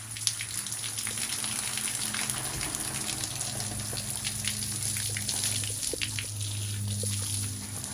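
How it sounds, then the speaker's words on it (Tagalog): A garden hose waters thirsty plants outdoors on a hot day, producing a continuous gushing, splashing spray with scattered droplet patter over a steady low hum. "Nag-water ako ng plants guys."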